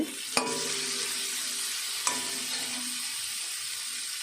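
Fish curry spice paste frying in oil, a continuous soft sizzle broken by two sharp clinks of a utensil against the pan as it is stirred.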